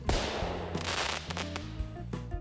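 Fireworks bursting in the Marble World game, a series of loud booming explosions and crackling pops layered over game music, several bangs spread across a couple of seconds.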